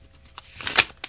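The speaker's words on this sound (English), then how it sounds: "Can't shuffle today for the life of me." A deck of playing cards being shuffled in a pick-a-card tarot-style reading, a short riffle and flutter of cards building to a crisp burst, then one sharp snap, close and fairly quiet, with no talking.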